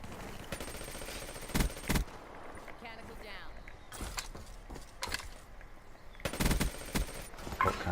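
Rapid bursts of PPSh submachine gun fire in Call of Duty: Black Ops 3, loud and close, with sharp broadband volleys around two to three seconds and again near six to seven, between quieter stretches of in-game action.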